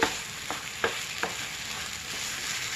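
Flattened rice sweet with jaggery, milk, cardamom powder and ghee being stirred in a pan, a continuous soft sizzle with a few spoon scrapes at regular intervals, close and moderate.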